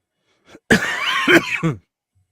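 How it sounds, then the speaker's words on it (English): A man coughs loudly right into a microphone, a short burst of two or three harsh coughs, close and isolated. "Coughing into my mic."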